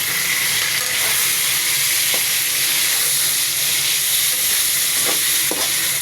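Chicken frying in oil spiced with whole coriander seeds and fennel, giving a steady, loud, continuous sizzle with a few faint clicks of stirring, and no voices.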